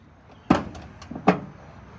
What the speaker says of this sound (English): let me go ahead and pop open the front trunk